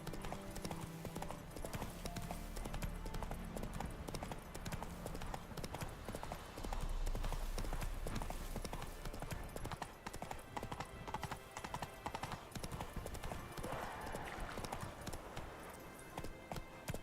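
A horse gallops in The Witcher 3: Wild Hunt, its hooves pounding in a fast, steady clip-clop rhythm, loud and close throughout, with a brief whinny near the end.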